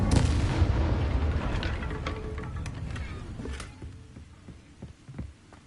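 An Incendio fire spell cast in Hogwarts Legacy bursts out loud and booming at the start, then rolls into a decaying crackle with a few scattered sharp pops as it fades.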